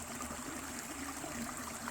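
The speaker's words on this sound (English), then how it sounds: "Stop and admire the river." River flowing beneath a forest bridge at a botanical garden in George: a steady, soft rushing of water, continuous and even, heard quietly with no talking.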